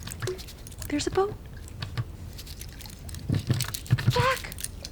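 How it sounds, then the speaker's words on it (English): Hands slapping and splashing in water, recorded as a Foley track for a Titanic scene re-recording, with several short splashy bursts, close up, under and between talking voices. "one track is hands on water"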